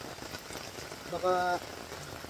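Rain falls steadily at a campsite, a dense pattering wash on tents and ground. Someone speaks briefly over it, and a short tonal burst rises partway through.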